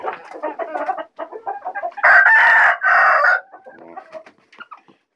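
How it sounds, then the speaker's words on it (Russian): Roosters and hens in a backyard flock of laying chickens: hens cluck in close, choppy bursts, then a loud rooster crow cuts in at full strength, followed by more clucking. "Петушки."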